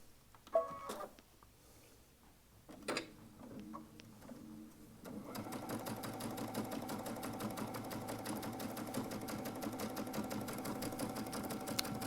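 A Baby Lock Altair sewing machine with a gathering foot, set to its leftmost needle position and a long stitch, starts after a few brief knocks and then hums in a steady, rapid, close-up stitching rhythm with no talk.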